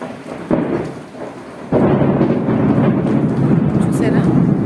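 Thunder rumbles during a heavy rainstorm, a low swell that surges suddenly loud partway through and keeps roaring over steady rain noise.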